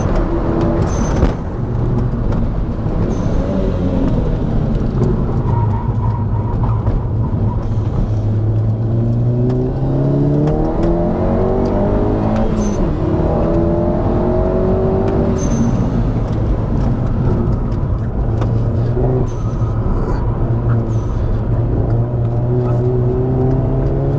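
VW Caddy van fitted with a 360 hp Golf GTI engine swap drives a lap on track, engine note rising and falling steadily through gear changes and throttle, with wheelspin as traction control intervenes; continuous, loud and close.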